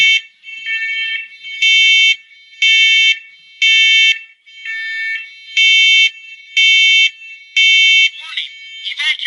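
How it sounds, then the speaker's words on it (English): First Alert ONELINK smoke alarm sounding loud, shrill beeps in a steady repeating pattern, alternating with a synthetic voice warning, close and clear. "I have to push another alarm."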